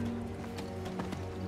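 A horse mount gallops in the Diablo 4 video game, its quick rhythmic hoofbeats clopping steadily over a low, constant game background, fairly faint and with no talking.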